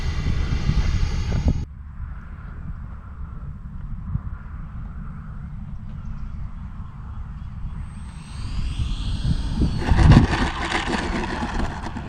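L-39 Black Diamond RC model jet flying overhead, its ducted-fan whine rising and falling as it passes, with wind buffeting the microphone and a louder swell near the end.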